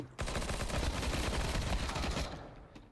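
Rapid bursts of gunfire from Counter-Strike 2 fill a few seconds, dense overlapping shots at moderate level that trail off near the end.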